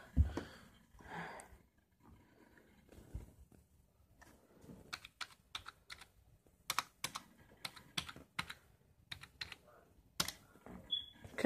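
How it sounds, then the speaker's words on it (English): Keys on a computer keyboard are struck during password entry, in irregular bursts of sharp, close clicks that grow denser toward the end, with quiet breathing and faint background noise early on. "Okay, I'm typing the password."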